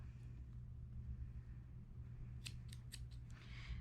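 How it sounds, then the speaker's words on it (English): Scissors snip yarn for a twisted headwrap: a quick run of four or five crisp, close cuts in a row over a steady low room rumble, with no talking. "give it a little snip"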